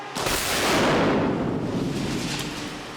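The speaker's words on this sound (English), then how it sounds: "When you blow up a big model, there's nothing better than that." A big pyrotechnic explosion of a large miniature model on a film set, one loud close blast that swells into a long roaring rumble and slowly decays.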